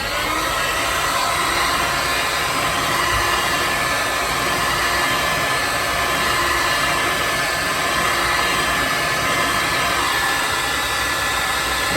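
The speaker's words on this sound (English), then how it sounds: "you can use a heat gun to try and shrink it a little bit" Heat gun blowing steadily while shrinking car carpet during a 1971 XY GT restoration, a loud continuous airy roar held without pause for the whole stretch.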